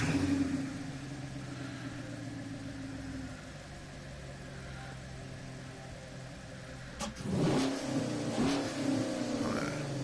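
A modern Chevy Camaro engine idles with a low steady rumble, then revs up sharply near the end with a couple of loud throttle blips, close by.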